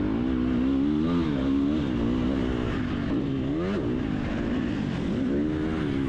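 A Triumph 250 motocross bike's engine revs hard and continuously nearby, rising and falling in pitch under load as it runs across a dirt track, with no talking.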